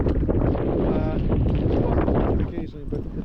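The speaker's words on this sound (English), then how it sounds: "I didn't think it was gonna be windy." Steady wind on a frozen lake buffets the microphone with a low, rumbling roar throughout, easing slightly near the end.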